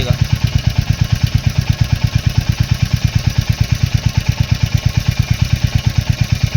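A Royal Enfield Hunter 350 motorcycle idles after a cold start, its single-cylinder engine thumping in a fast, steady, even rhythm, close and loud with a faint mechanical clatter.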